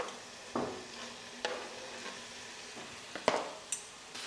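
Tomatoes dropped into browned masala in a hot pan, with soft sizzling and a few stirring scrapes and clinks spread across the moment, fairly quiet and close.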